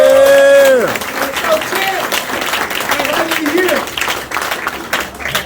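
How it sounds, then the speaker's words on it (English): A crowd gives a big round of applause after a fighter's post-fight Q&A session, dense sustained clapping with cheering voices mixed in, loud and close, following a sung note at the start. "big round of applause"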